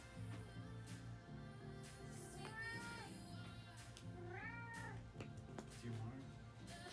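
A hungry cat meows several times in rising and falling calls, fairly close, while people talk over and between the meows.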